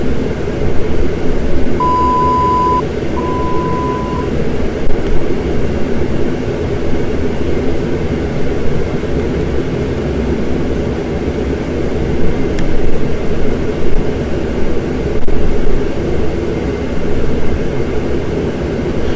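Airbus A319 airliner climbing out after takeoff in a flight simulator, a steady, loud broadband engine and cabin roar with a low rumble throughout, plus a couple of brief electronic tones early on.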